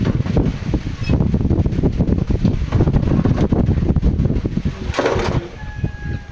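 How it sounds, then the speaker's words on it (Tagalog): Strong wind on a balcony buffets the microphone with a constant low roar and rumble, steady and close throughout. "Lakas ang hangin"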